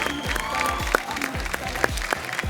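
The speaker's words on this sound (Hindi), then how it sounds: "भाई तालियां बजती रहनी चाहिए अनीता जी के लिए" Studio audience applause for a contestant on a folk singing reality show, steady dense clapping with a few sharper claps standing out and swooping tonal sounds layered over it.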